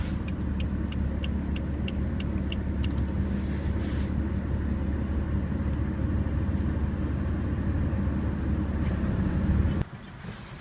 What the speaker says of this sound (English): let's jump into the car, start it up, and see how it sounds